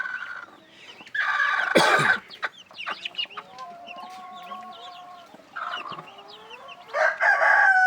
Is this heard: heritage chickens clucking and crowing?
yes